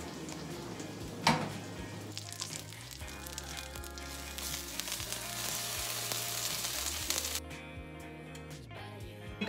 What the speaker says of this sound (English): I added some oil, let it heat up for a few minutes, and then I'm gonna add my patty